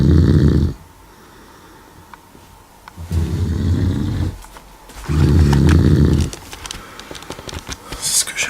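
A person snores loudly during the night with three long, rasping inhalations, each about a second or more, separated by quiet pauses, and faint rustling follows.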